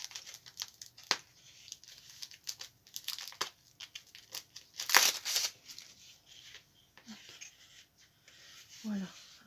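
A package is opened by hand, with bursts of crinkling plastic and paper and one sharp, loud tearing rip partway through, all close up and separated by short quiet gaps.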